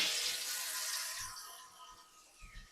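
Cold water is poured into a quarter-cup measure for a brownie recipe, a brief hissing, splashing trickle that tapers off after about a second and a half, followed by faint soft handling knocks.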